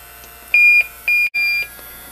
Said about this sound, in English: Again, you'll get the smart alarm and the audible alarm.